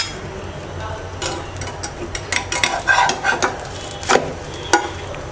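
An egg omelette sizzles quietly in a pan while a utensil scrapes and taps against it in a quick, irregular series of close, sharp strokes, with no speech.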